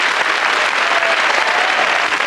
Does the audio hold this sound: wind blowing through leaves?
no